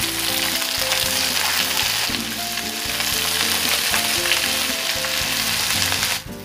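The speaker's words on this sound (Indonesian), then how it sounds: "Saya tumis-tumis sampai semua mengeluarkan aroma yang harum." Sliced chilies and lemongrass stir-fry in hot oil for a beef and fern dish, sizzling loudly and continuously up close, with stirring noises and a steady musical backing underneath until it cuts off.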